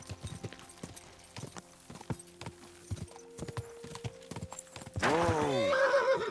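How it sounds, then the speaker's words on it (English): A horse in the Kingdom Come: Deliverance II video game gallops with rapid, steady hoofbeats, then lets out a loud, close whinny that rings to the end. "No, I'm calling my horse"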